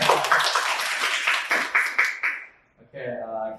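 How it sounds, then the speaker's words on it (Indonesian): An audience at a career talk clapping in a burst of loose, overlapping claps that fade out, followed by a voice speaking. "Oke, tepuk tangan dong teman-teman."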